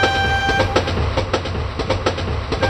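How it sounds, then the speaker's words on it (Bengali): A train runs along a railway track with a steady, rhythmic clickety-clack of wheels over rail joints, loud and close, with no voices over it. "গুলটে মামা ট্রেন আসছে"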